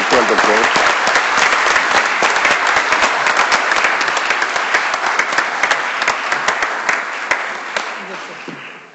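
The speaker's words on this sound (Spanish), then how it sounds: "Vamos a, tributarle otro aplauso al doctor." Loud, sustained applause from a congress audience honoring a nephrology doctor, thick continuous clapping that holds steady for nine seconds and tapers slightly at the end.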